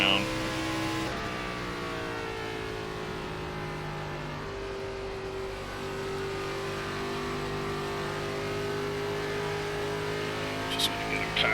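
A NASCAR ARCA Series race car engine in the iRacing game at Darlington Raceway drones steadily at high revs, its pitch shifting as it changes speed, with someone talking over it.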